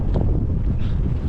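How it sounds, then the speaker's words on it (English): Wind gusts buffet the microphone during an outdoor parkrun, a steady low rumbling roar with soft flutter and no voices. "So that wind's picking up."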